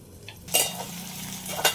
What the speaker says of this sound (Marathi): मंदात आपल्याला आलू पण फिरून घ्यायच्यात बरं, नाही तर आलू मग खाली लागून जातील ना कढईले।